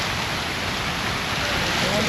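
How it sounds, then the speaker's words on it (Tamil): Heavy rain pours down in a village near the India–Pakistan border in Rajasthan, a dense, steady hiss of falling water that fills the whole moment with no break or change. "பயங்கரமாக மழை பெஞ்சிட்டு இருக்கு."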